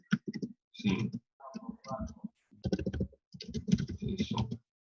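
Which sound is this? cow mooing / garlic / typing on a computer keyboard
typing on a computer keyboard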